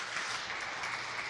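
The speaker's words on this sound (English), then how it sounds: "A clap offering to the King of Kings and the Lord of Lords." Congregation giving a clap offering in church, a thick continuous burst of many people clapping together, loud and even throughout with no voices on top.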